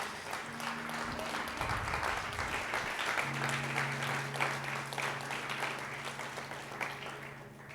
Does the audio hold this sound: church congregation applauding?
yes